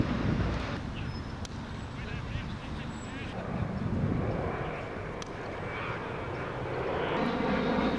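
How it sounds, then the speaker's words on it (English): An aeroplane passes overhead above the Old Deer Park cricket ground in a broad, rushing roar that swells and fades over several seconds, with wind noise and a voice talking throughout. "What would it be without the aeroplane zooming overhead?"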